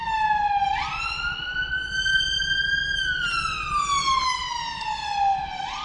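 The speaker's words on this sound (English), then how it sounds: "Was in fact an ambulance." An ambulance siren wails close by in London traffic near Trafalgar Square, its loud tone sweeping slowly up and down through one long cycle with no voices over it.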